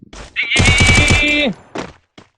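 Video game gun set to full-auto firing one loud, rapid burst lasting about a second, close and dense, with short vocal sounds just before and after.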